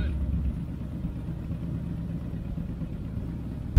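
A Harley-Davidson motorcycle engine idles nearby with a steady low rumble and no clear revving, swelling into a brief louder burst at the very end.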